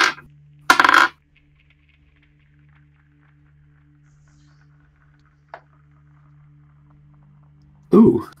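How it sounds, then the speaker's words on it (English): Dice are rolled for a tabletop role-playing game: a short clatter near the start, a faint tap midway, and another rattle at the end, with voices briefly heard around them. "Let's grab some dice, because that's the only way to be."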